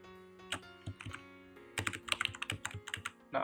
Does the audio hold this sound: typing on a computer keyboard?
yes